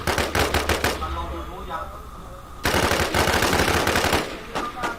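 Gunfire in the survival shooter Infestation Survivor Stories. Loud, close bursts of rapid automatic shots come in two clusters separated by a quieter gap, with a voice speaking in the background.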